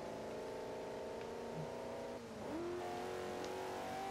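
Car engine revving in the Forza Horizon 2 racing game on a wet road, a steady loud drone that dips briefly, then climbs again in pitch as the car accelerates.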